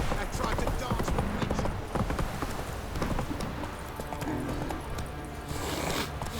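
Horse Roach trotting in The Witcher 3, a steady rapid clip-clop of hooves throughout, with voices talking over it.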